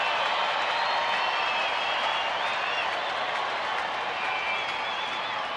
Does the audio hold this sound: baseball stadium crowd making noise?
yes